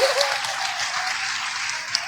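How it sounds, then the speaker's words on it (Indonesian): A congregation at a dawn religious lecture in a Blitar mosque applauds, a continuous, fairly loud patter of hands heard alone without talk. "Tepuk tangan buat Dewi"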